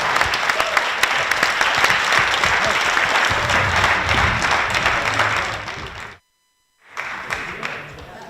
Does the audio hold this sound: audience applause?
yes